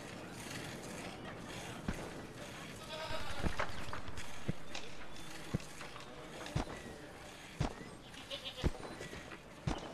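Goats bleat on a farm in the video game Homefront, their calls mixed with sharp mechanical clicks and knocks recurring at intervals, moderately close amid ambient game noise.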